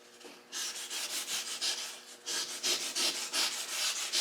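Hand sanding of paint on a Toyota Cressida fender, a close series of rhythmic rasping strokes that run steadily back and forth after a brief quiet start.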